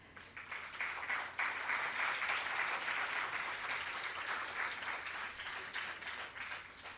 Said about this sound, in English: And Varun truly deserves a huge round of applause.